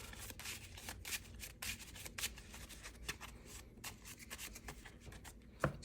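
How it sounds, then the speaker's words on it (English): Yu-Gi-Oh card deck shuffled by hand, a run of quick papery riffling bursts and rubs repeating steadily over several seconds, close and fairly quiet, with no talk. "We're going to shuffle up and then draw a card."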